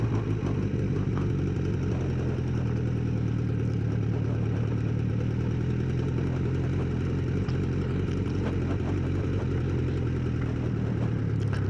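A Suzuki motorcycle engine drones steadily and loudly on the steep Hardknott Pass, a continuous mid-pitched hum with some clatter throughout, with no talk over it.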